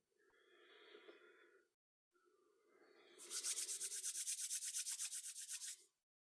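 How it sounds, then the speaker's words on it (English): Two palms rubbing together briskly during a guided meditation, a soft continuous swishing that builds into a louder, rapid rhythmic rasp of about fifteen strokes before stopping, close and alone with no talk. "I'll invite you to rub your hands again, and then to cup them."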